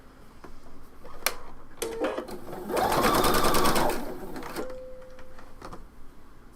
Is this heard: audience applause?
no